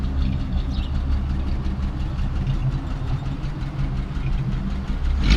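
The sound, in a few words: car engine idling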